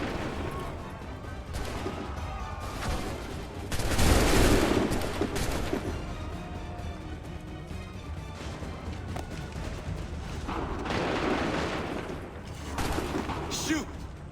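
A musket volley in the Assassin's Creed 3 video game, with rolling bursts of gunfire and a heavy crackling swell near the middle, then another round near the end, under a dense battle din.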